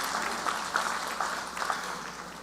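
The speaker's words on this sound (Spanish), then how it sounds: "Aplausos, por favor, para la doctora Benteño" Audience applause at a Mexican panel on indigenous rights, continuous crowd clapping at moderate volume with a few faint raised voices mixed in, steady for a couple of seconds.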